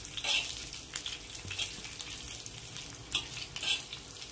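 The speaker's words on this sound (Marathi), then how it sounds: "तर हे बघा हलकसं आपल्याला भाजत आहे मिरची।" Green chillies fry slowly in a pan over low gas, a faint crackling sizzle with a few brief brighter pops and light stirring scrapes, and no voices.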